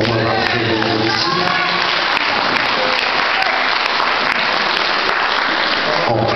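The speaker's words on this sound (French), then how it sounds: "je pense qu'on peut les applaudir pour m'avoir fait venir ici" Loud audience applause and crowd noise at a Johnny Hallyday tribute cabaret show, continuous dense clapping close by for the whole stretch with scattered cheers mixed in.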